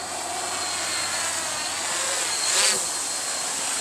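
An FPV quadcopter drone flies around on a quick check flight, giving a steady high-pitched buzzing whine that holds throughout and swells briefly as it passes closer near the end.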